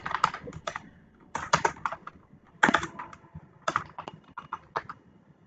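A delivery address is typed on a computer keyboard in quick clusters of sharp, close keystrokes separated by short pauses, with no voice over them.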